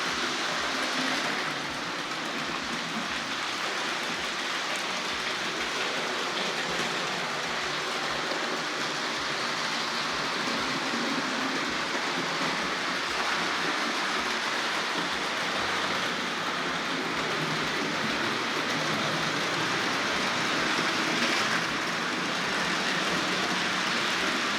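A Hornby R.761 Kneller Hall model locomotive hauling Pullman cars rolls over a set of points, giving a continuous rushing hiss with faint, regular low clicking throughout, alone and without voices.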